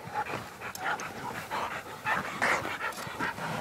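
A hog hunting dog pants hard and fast at close range, with rapid rhythmic breaths and faint whimpers after a hunt in Rossville.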